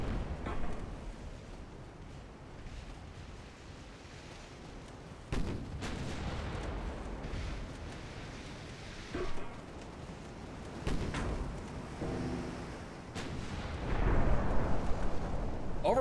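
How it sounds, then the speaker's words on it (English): Warship main guns firing in Ultimate Admiral Dreadnoughts, several deep booming salvos spaced a few seconds apart with rumbling tails, ending in a louder sustained blast, with brief talk now and then. "So the main guns actually hit something."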